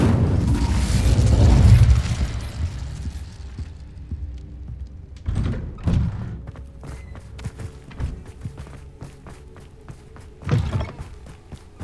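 The Incendio fire spell, cast in a wizarding game inside a spider-infested cellar, bursts out as a loud whooshing blast at the start, then dies away into scattered dull thuds and clicks.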